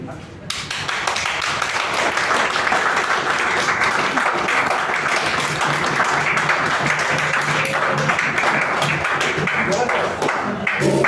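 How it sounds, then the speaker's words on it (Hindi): Audience applause in a college classroom after a first-year student presentation, steady dense clapping lasting about ten seconds and filling the room at fairly close range. "ताली हमारे लिए था, मेरे लिए था।"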